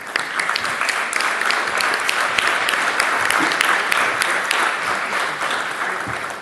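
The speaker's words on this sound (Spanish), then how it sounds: "renovamos el aplauso para Cecilia Magnoni y Ángela Maldonado" Audience at a reading session in Carmen de Areco applauds the readers, a dense, steady wash of many hands clapping that holds loud throughout.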